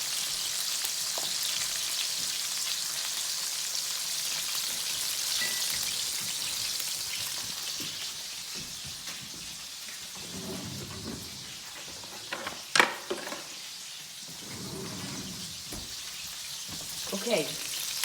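Fish fries in a pan with a steady, bright sizzle, and a spoon turning it produces a few sharp clinks and scrapes near the end.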